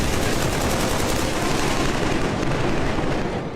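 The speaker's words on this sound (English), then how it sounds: "the stellar sound design makes sure you hear every bullet that whizzes by" Loud, relentless gunfire in Killzone 3 on PS3, with bullets whizzing past. A dense wall of automatic shots and impacts holds without a break, close and overwhelming.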